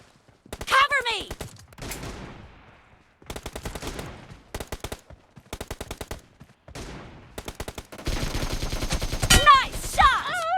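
Video game gunfire crackles in rapid automatic bursts separated by short pauses, loud and close, ending in a longer sustained volley, with brief voices calling out between shots.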